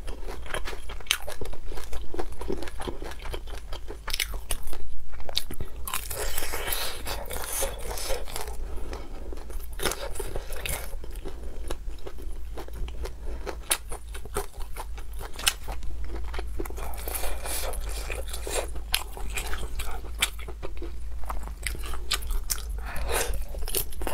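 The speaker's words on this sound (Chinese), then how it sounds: "烤肠，这个烤的时间比较长，这是火大点的，黑胡椒味的" Close, crisp chewing and crunching of a spicy grilled black pepper sausage, cooked long over high heat, with steady wet bites and mastication continuing throughout and no talking.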